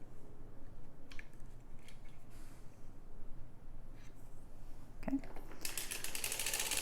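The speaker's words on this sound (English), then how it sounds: "Now we crank our 4 rows." A hand-cranked sock knitting machine, working four rows of a lace sock, gives quiet, steady mechanical ratcheting and clicking, ending in a brief sharper burst of noise.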